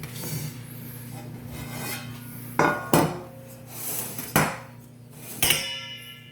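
Metal 9-inch cake pans being handled in a home kitchen: a string of loud, sharp clanks and clatters as the pans knock together and are set down, spaced irregularly over a low background hum.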